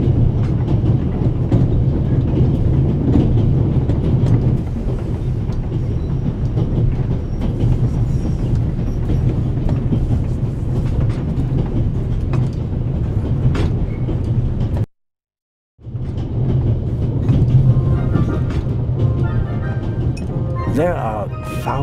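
Steady rumbling and rattling of a train crossing the Alps in The Raven Remastered, a continuous dense clatter running throughout with a brief cut to silence near the end, voices speaking over it.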